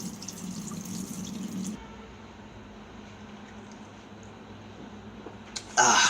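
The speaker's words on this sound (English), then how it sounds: "now I'm going to go ahead and drain it" Rinse water drains off rice in a kitchen sink, a steady close wash of running, splashing liquid for almost two seconds, then a faint hiss with a few quiet drips before a loud splash at the end.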